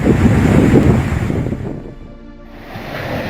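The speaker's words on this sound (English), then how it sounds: "The water rushing ashore into homes." Tsunami waves surge ashore on Tongatapu, Tonga, a loud, rushing roar of churning water with heavy wind buffeting the microphone, easing briefly in the middle before the surge swells again.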